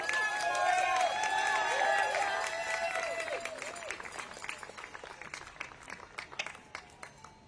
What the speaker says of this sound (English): Give a big round of applause to all the survivors and all the victims and all the supporters today